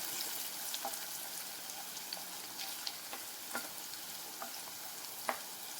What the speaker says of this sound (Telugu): అలాగే పచ్చిమిరపకాయలు యాడ్ చేసుకొని ఇవి బాగా ఫ్రై చేసుకోవాలండి.